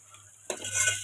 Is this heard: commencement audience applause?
no